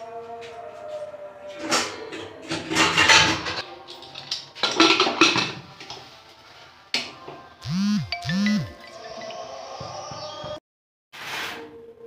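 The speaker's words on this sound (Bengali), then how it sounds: "এখন কুকারে ঢাকনাটা বন্ধ করে দিই।" Metal lid of a pressure cooker being fitted and closed over rice cooking with ghee in a kitchen: several close, sharp metallic clanks, clatters and brief scrapes, with short pauses between.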